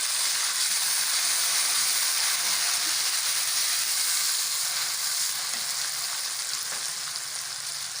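Chopped tomatoes fry in a pan with browned onion, garlic and ginger, giving a loud, even, continuous sizzle that holds steady and fades slightly toward the end, with no talk.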